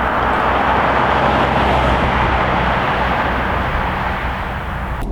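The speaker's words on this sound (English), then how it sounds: "So riding in the 2020 Mercedes-Benz GLB 250." Steady cabin rumble while riding in a 2020 Mercedes-Benz GLB 250, an all-new front-wheel-drive compact SUV with a new transmission and chassis, at night; continuous low road and engine noise with no voices.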